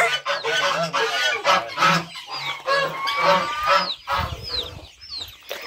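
Geese honk loudly and repeatedly at close range, a dense overlapping chorus of harsh, nasal calls with brief gaps, mixed with some clucking from nearby fowl.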